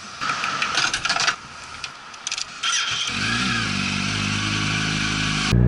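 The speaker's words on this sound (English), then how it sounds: "on the road with this wrecked Yamaha R1 that we completely rebuilt over the past few months" A wrecked, rebuilt Yamaha R1 motorcycle gives a few mechanical clicks and rattles, then its engine catches and settles into a steady idle, with a sharp rise in level right at the end.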